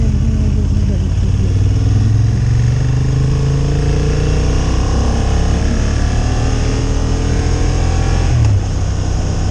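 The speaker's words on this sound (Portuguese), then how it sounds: "O som desta moto está muito bom." A 2023 Honda Hornet 750 motorcycle engine hums steadily while riding, its pitch rising and falling smoothly with speed, close and loud throughout.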